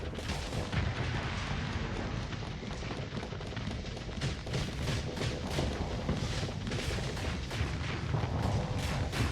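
Plasma cannon fire in the Starsector space combat game, a rapid run of repeated blasts and booming impacts that stays fairly loud and dense throughout, with no talking.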